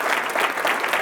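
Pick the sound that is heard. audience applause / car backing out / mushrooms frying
audience applause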